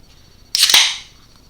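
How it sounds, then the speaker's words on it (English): An energy drink can cracks open with a sharp pop followed by a short fizzing hiss, close and alone against quiet room tone. "we're just gonna use an energy drink because it's canned and it's gonna make a noise"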